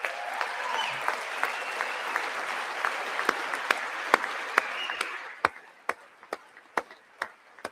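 Applause at the State of the Union speech, a broad wash of crowd clapping that thins after a few seconds into sparse, sharp individual claps spaced out at the end.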